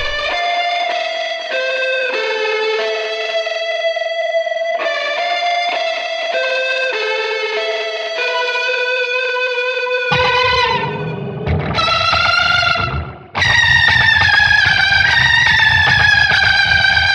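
An eerie electric guitar runs through effect plugins such as chorus, playing sustained wavering notes, then harsher distorted, echoing bursts that grow louder toward the end, with no talk.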